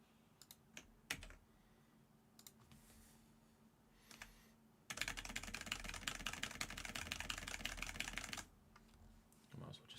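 A computer keyboard is typed on nearby, with a few scattered clicks at first and then a dense, rapid burst of keystrokes lasting several seconds before it stops.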